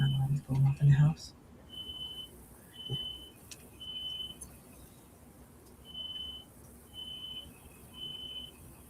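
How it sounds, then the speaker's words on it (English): A household smoke detector beeps repeatedly, short high-pitched chirps recurring at irregular intervals, faint and somewhat distant, while a person talks over it at the start. "Oh, it's a smoke detector."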